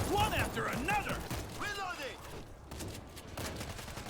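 Single shots from a weapon in the zombie shooter World War Z crack in a short burst of separate reports, heard under someone speaking close to the microphone.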